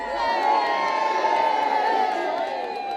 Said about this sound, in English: The crowds filled every inch of the waterfront, craning for a glimpse of the Diamond Queen.